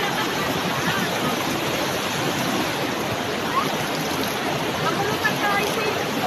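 Rushing water of a waterfall and stream at Taytay Falls in Rizal, a steady broadband roar filling the scene from start to end without breaks.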